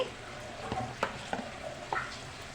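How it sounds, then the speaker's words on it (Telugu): Green chillies, curry leaves and turmeric fry in oil as the base for a mutton curry, a faint low sizzle with a few soft scraping stirs spaced through it. "ఇలా ఫ్రై చేయండి కొంచెం కలర్ చేంజ్ అయ్యేదాకా ఫ్రై చేయండి"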